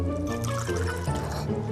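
Milk is poured through gauze into a bowl as a steady liquid splash and trickle, close and continuous for under two seconds.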